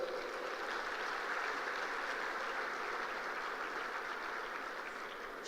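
Sustained applause from a reception audience at a Republic Day celebration held by India's High Commission in Singapore, a dense, even wash of many hands clapping at moderate distance throughout, with no talk.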